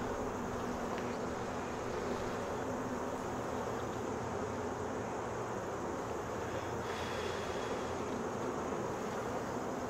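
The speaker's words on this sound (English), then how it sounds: "They're making that roaring sound like they don't have a queen" Honeybees in a queenless hive, giving off a steady, dense roaring hum that fills the whole stretch at close range, with no talk over it.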